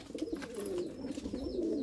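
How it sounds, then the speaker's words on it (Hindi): Pet pigeons kept in a box-style coop in India coo in soft, repeated low throaty phrases, close and moderately loud against light background noise, with no talking. "इस पेटी वाले कबूतर देखो अभी तक बाहर निकले नहीं"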